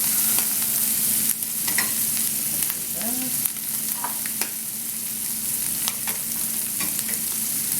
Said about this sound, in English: all these things are going to be cooked in the pans with the bacon dripping, the bacon fat